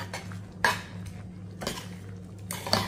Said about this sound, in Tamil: நல்லா மிக்ஸ் பண்ணிக்குவோம்